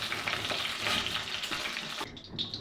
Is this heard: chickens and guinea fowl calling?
no